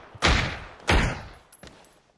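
Two loud, booming shots from a Dragunov sniper rifle in a video game, spaced under a second apart, each with a decaying tail, followed by a fainter third report.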